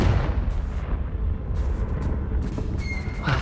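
A Confringo fire spell explodes in the Hogwarts Legacy game, a loud, rumbling blast that rolls on and fades over a few seconds, with a faint high whistle near the end.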